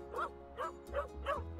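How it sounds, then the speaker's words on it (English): Cartoonish dog barks from a Pets Hotel video game, four evenly spaced woofs over a steady game music bed, moderately loud and clear. "Who's barking over there?"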